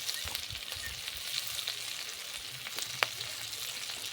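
Spice paste (masala) frying slowly on low heat for a prawn curry, a steady soft sizzle and crackle with a few small pops, continuous and close, no voices.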